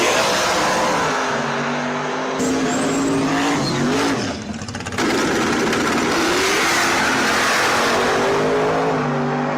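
Racing machines in a replayed race roar loudly as they accelerate, with engine revs climbing and falling and a brief dip partway through, close and dominant throughout.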